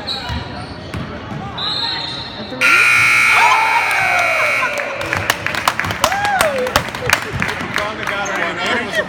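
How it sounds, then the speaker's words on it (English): A loud, sustained electronic buzzer blares at a basketball game over an excited arena crowd, with sneakers squeaking and voices shouting around it. "a buzzer."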